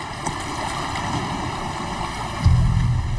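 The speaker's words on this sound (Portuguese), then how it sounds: "esse barco está muito instável" An unstable boat rocks on ocean waves near a coral reef, with steady wind and water wash throughout and a louder low rumble of surf or hull slap near the end.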